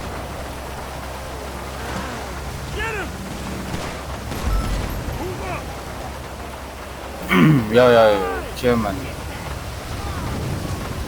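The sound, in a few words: rain falling in a video game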